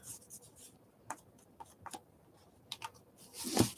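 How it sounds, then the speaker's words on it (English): Craft paper edges are rubbed down by hand with a tool, giving soft, scattered scratchy strokes at close range and a louder rasping rub near the end. The sounds are quiet, with no talk. "Let's gently rub down these edges."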